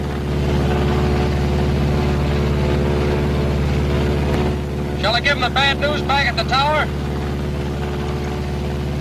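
Steady B-26 airplane engine drone running on a single engine throughout, close and loud, with someone speaking over it partway through.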